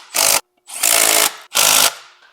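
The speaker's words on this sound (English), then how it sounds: "I'll just have to make sure to hold on to it as I tighten down these pressure plate bolts" A power tool tightens pressure plate bolts on a Volkswagen and Mazda drivetrain for a BMW E30 drift car, firing in three loud, close bursts of whirring rattle with short silent gaps between them.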